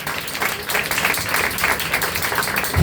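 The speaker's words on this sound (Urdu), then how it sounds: "آسمان کے خدا کے لیے زوردار تالیاں بجائیں" Loud, sustained applause from a church congregation, dense clapping throughout with no spoken voice.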